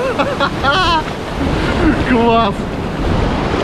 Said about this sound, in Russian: волны действительно очень опасные